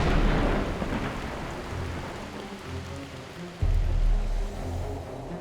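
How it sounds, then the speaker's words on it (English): A summer thunderstorm in the Tibetan mountains, with heavy rain hissing steadily and deep thunder rolling beneath it. A sudden louder rumble breaks in partway through. "Dramatic storms are common."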